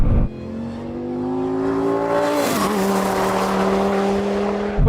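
A Ford Mustang GT and a Dodge Viper race. Loud, close engine drone holds steady revs, dips briefly in pitch mid-pass as a gear changes, then pulls on strongly with tire noise and no speech.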